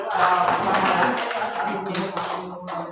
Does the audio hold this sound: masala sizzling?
no